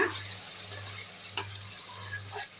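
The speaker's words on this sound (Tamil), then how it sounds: "அப்படியே கிண்டி விட்டுருங்க" Garlic pickle being stirred in oil in a heavy-bottomed pan: a soft, even sizzle with light scraping and one brief clink midway, fairly faint and without voices.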